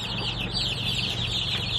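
Cornish Cross and Red Ranger meat chickens, young birds in a brooder, cluck and chirp steadily as a continuous close flock chorus with no talking.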